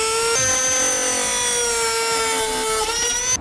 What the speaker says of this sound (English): We'll use a rotary tool to make our cut.